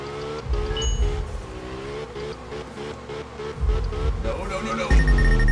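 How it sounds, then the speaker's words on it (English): A car drifts in the racing game Absolute Drift, its engine whining and rising in pitch through shifting revs with tire noise underneath, close and continuous, while someone talks over it. "got myself a good drift going here"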